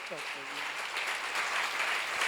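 A church congregation at a seminar gathering breaks into applause, a soft, continuous patter of many hands that builds slightly, with a brief voice at the very start.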